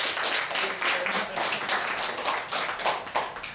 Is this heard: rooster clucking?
no